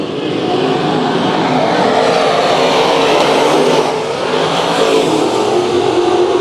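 Race cars battle on the dirt track at Bakersfield Speedway, a loud, continuous roar of engines revving and passing with no pauses.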